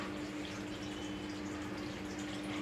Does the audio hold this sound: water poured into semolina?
yes